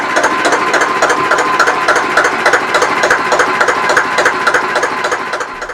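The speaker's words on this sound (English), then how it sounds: "next up is the engine room with that Russell Newbury DM2 engine." A Russell Newbury DM2 diesel engine runs close by in a narrowboat engine room with a steady, rapid knocking chug and mechanical clatter, loud and continuous.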